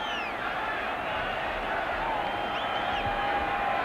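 A stadium crowd at a 1990 NFL game between the Lions and Buccaneers roars after a field goal attempt, a dense, steady wash of cheering and yelling that holds loud and unbroken throughout.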